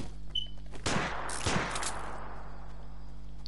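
Video game gunfire in a shooter match, two sharp bursts of shots about half a second apart, loud and close, each trailing off into a fading echo, with no talk over them.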